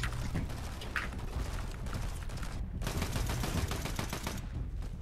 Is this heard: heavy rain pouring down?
no